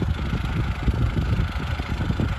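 An MTZ tractor engine idles in a field, a low, continuous rumble with an uneven throbbing pulse, close and moderately loud with no voices over it.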